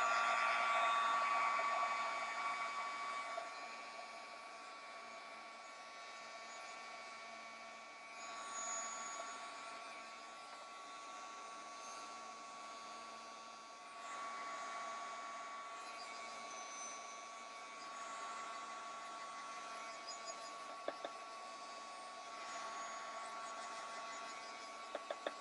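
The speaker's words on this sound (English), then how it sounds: "And then I'm just going to give this a very quick heat set." Heat tool setting Gelatos on a mixed media art journal board, a continuous whirring blower hum with faint pitch shifts as it moves, quiet and alone.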